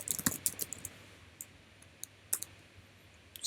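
Keys tapped on a computer keyboard while something is entered into a to-do app's text field, a quick burst of close clicks at the start, then scattered single taps with pauses, faint and alone.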